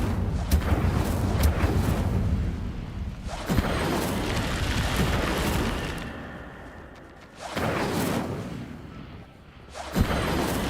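Repeated casts of the Incendio fire spell in Hogwarts Legacy, each a loud whooshing blast of roaring flame with a booming edge, bursting out several times with brief quieter gaps between.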